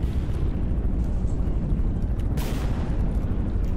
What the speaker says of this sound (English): Rocket impact! Rocket impact! Rocket impact! Minimal damage.